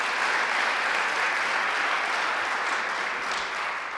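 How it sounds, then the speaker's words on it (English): Audience applause at a New York governor's event on higher education, a dense, steady wash of clapping that holds loud and even for the full four seconds with no voices above it. "So let's give him a round of applause as well."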